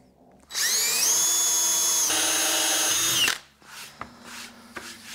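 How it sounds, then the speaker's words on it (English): A power drill bores holes for a seat mount on a 1983 PolarKraft Genius boat: one loud, whining burst of about three seconds that dips slightly in pitch midway, then some light handling clatter. "And we'll drill them."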